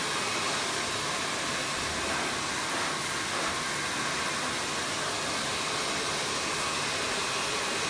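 A hair dryer blows steadily and loudly at close range while drying a woman's short layered haircut, a continuous broadband whoosh with no pauses or talk.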